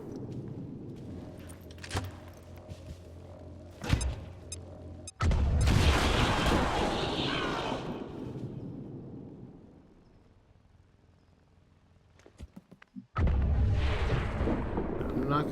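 Frag grenade detonating in the turn-based strategy game XCOM 2: a heavy, booming blast that rolls on for several seconds before fading, followed by a second loud burst near the end.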